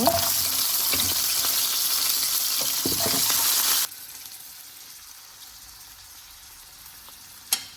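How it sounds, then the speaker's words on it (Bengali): Winter vegetables fry in a pan of oil left over from frying fish, a loud steady sizzle that drops to a quieter crackle partway through, with a single sharp clatter near the end. "মাছ ভাজার তেলেই সবজিগুলো ভেজে নেব"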